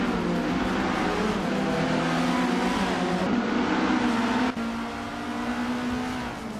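Race cars drone through a racing video game, their engines holding a steady, loud hum with a slight pitch shift partway through as the pack runs together.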